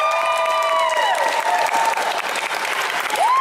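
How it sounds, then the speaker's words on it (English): An audience at an anime convention voice actors' panel breaks into loud sustained applause, with whoops and scattered cheers over the clapping. "Can I have a round of applause for my suit"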